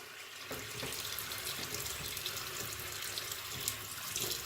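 A bathroom or kitchen tap runs steadily while a makeup brush is rinsed under it, a constant close hiss of flowing water with no speech.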